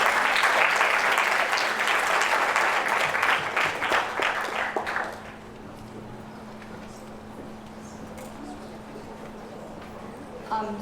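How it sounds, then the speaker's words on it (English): An audience at a youth pitch competition gives steady, moderately distant applause for about five seconds before it fades into quiet room tone. "Please give a big round of applause for Rituj."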